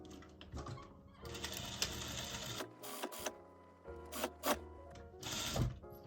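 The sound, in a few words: sewing machine stitching down a coat pocket seam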